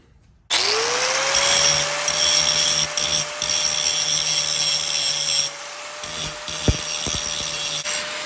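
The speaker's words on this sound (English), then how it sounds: "So I'm gonna grind a V here and a V on this end of the steel frame tubing" An angle grinder spins up and grinds a V into steel frame tubing for a Harley chopper build, giving a steady loud whine close by with brief dips as the pressure shifts, then a few knocks near the end.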